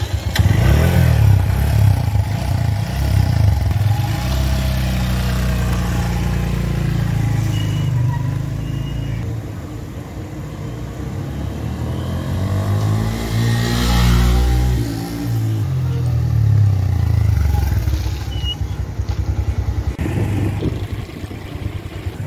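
A 150cc Road Prince motorcycle being ridden, its engine running loud and close throughout with rising and falling revs and some rattling, no talk over it.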